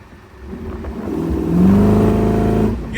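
A 1932 Ford Roadster hot rod, a straight-line drag car, accelerates hard up close, its engine drone climbing and swelling in loudness before easing off at the end.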